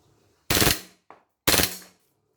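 A WE G23 airsoft pistol fires two loud, sharp bursts close by, each a quick rapid cluster of shots in automatic mode, with a small mechanical click between them.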